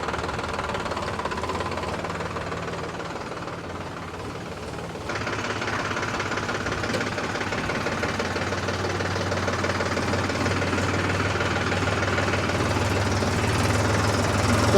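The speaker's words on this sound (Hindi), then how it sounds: "ये पल्टी फांगा में महिंद्रा को लगाया है, ये है यूओ टेक प्लस, और 1700 किलो की लिफ्ट कैपेसिटी भी आती है इसमें, और एकदम स्मूथली चल रहा है।" A Mahindra Yuvo Tech Plus tractor engine runs steadily nearby with a low rumbling, knocking beat, continuous and fairly loud throughout, with no talk over it.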